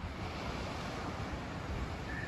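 Sea waves on the Alanya coast in Turkey, a steady, soft wash of surf with some wind noise, continuous and fairly faint, with no voices.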